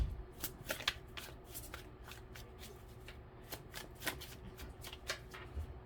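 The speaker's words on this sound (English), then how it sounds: "I'm going to do it one more shuffle." A deck of tarot cards is riffled and shuffled by hand in a quiet room, a run of quick crisp flutters and soft taps repeating through the whole stretch.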